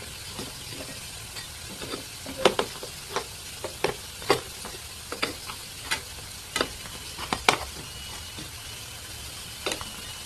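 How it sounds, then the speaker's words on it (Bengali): Homemade biscuits of wheat flour mixed with water fry in a pan, a soft steady crackle with scattered sharp taps and scrapes of a utensil, fairly quiet and close, with no talking. "আর গাইস একটু সময় নিয়ে এই বিস্কিটটা ভাজতে হবে"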